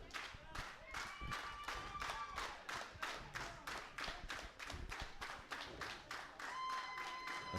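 Rhythmic crowd clapping at an independent wrestling show at New Rock Preparatory, steady evenly spaced claps from a small audience building a beat, with a commentator talking over it.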